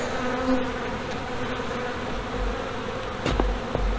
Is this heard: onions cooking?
no